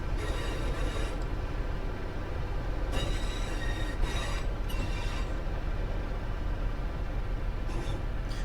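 Locomotive rumble and rolling wheel noise from a Midland Main Line train in the simulator game Train Sim World 3, a steady loud mechanical drone with brief brighter hiss bursts, heard alone without voices.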